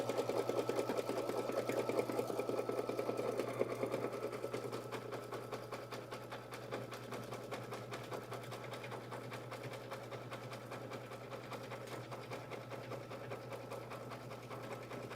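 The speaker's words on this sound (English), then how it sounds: "So we're going to stitch our little zigzag, which is going to compress the fur right where the seams will be." A sewing machine stitches a zigzag through fur to compress it along seam lines, running as a steady close rapid mechanical whir for the whole stretch, slightly louder at first, with no talk.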